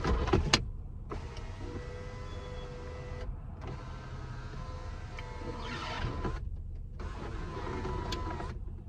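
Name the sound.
car sunroof opening electrically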